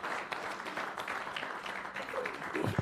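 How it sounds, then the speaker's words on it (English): Steady applause from a lecture audience at a Pharmaceutical Society of Nigeria fellows' public lecture, a dense patter of many hands filling the room, with a few louder claps and murmurs near the end. "I want to appreciate you for clapping for me."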